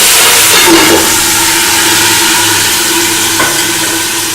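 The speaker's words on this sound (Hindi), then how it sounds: "अब हम इसमें टमाटर, हरी मिर्चें, लहसुन अदरक का पेस्ट डाल देंगे।" Tomatoes, green chillies and ginger-garlic paste fry in a pot for a vegetable pulao, making a loud, continuous hissing sizzle that stays close and even throughout.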